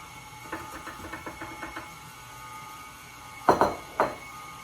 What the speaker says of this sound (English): as I stir this in, I'm going to stir in my peaches a little bit